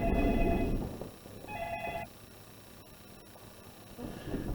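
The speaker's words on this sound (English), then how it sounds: "Give me a second, my phone's ringing." A mobile phone rings indoors with a tonal electronic ringtone in short repeated bursts, fairly faint with pauses between them and no talking.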